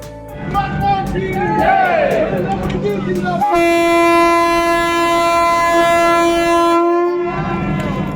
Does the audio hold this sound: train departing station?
yes